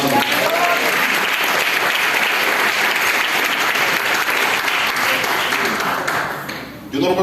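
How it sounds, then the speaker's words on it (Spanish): A church congregation at a Palm Sunday service claps in sustained, dense applause, loud and close, tapering off near the end as a voice briefly cuts through. "Den un aplauso a Jesucristo, hermano."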